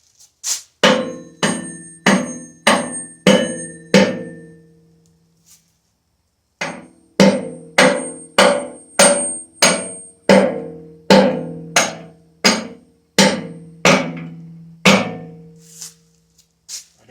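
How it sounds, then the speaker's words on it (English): A hammer strikes a Kubota tractor bucket pin in two loud, ringing volleys of metallic blows. The first run has about six hits and the second has about a dozen, separated by a brief pause, with no talking. "I don't want to hammer on the end of this because I don't want to bend those tips"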